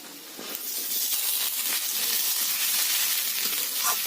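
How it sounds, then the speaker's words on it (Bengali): Potatoes and onions fry in a pan with garlic, a steady close sizzle and hiss with occasional light stirring scrapes, heard alone without talk. "এবার ভালো করে ভেজে নেব এই আলু আর পেঁয়াজের সাথে"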